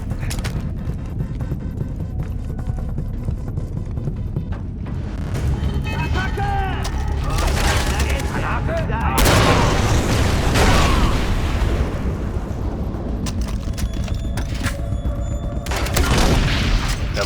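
Grenade blasts boom through a Far Cry 3 firefight on the Rook Islands, heavy rumbling bursts stacking over continuous game noise, with the loudest surges near the middle and end and someone talking over them.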